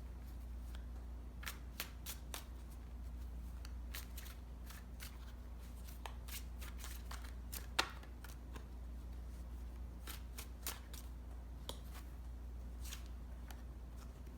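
Tarot cards shuffled by hand during a reading, giving a run of soft, quick riffling snaps and rustles at an irregular pace over a low steady hum, with no talking.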